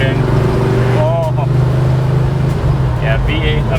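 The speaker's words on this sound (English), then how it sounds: "The sounds you're hearing are the sounds of beautiful, beautiful engine." A 1973 Plymouth Duster V8 engine under way from inside the car, a loud steady low drone that stays strong throughout, with people talking over it in short bursts.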